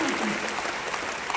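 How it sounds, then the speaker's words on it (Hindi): Steady audience applause at a company success-day event in Delhi, a dense wash of many hands clapping together at a moderate level, filling the whole stretch. "जोरदार तालियां बजाइए।"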